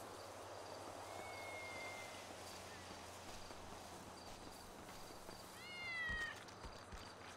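Cat meowing inside the NoPixel GTA role-play game, two drawn-out meows, one brief and faint early on and a louder rising one near the end, over steady low background hum.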